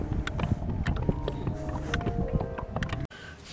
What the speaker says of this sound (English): Keep blowing, wind.